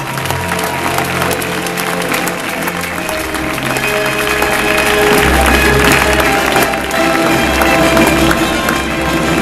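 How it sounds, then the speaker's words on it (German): A crowd at the Swiss beach volleyball awards applauds the season's MVP, sustained loud clapping over booming background music throughout. "einen grossen Applaus für unsere MVP"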